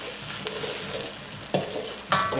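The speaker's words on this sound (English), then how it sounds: "add the kale and stir in" Kale being stirred into eggs frying in oil in a hot pan for Thai fried rice, with a steady close sizzle and a few sharp spatula scrapes and clacks.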